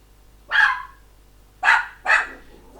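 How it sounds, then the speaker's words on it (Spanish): A pet dog barks indoors at home, three sharp, loud barks, one alone and then two in quick succession, close to the microphone. "Perdón, el perro ladra"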